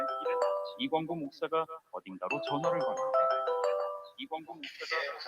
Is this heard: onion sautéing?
no